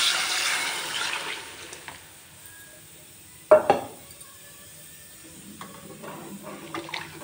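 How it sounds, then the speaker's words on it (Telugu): Tamarind water, about a litre, is poured into a sambar pot of seasoned vegetable pieces, giving a short splashing gush mid-clip amid quieter kitchen clinks, faint sizzling and pot sounds. "దీనిలో చింతపండు వాటర్ వేస్తున్నాం."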